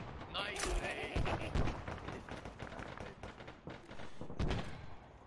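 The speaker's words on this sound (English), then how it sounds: "Gonna shoot a frag at that." A frag grenade fired and exploding in the military video game Arma 3, amid a dense, busy mix of gunfire and thumping impacts, with voices talking over the action.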